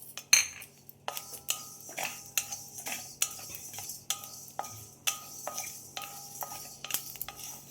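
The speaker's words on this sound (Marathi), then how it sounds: "तडतडा आवाज येतोय" Cumin seeds crackle and pop in a hot kadhai, with a spoon repeatedly scraping and clinking against the metal in a steady rhythm.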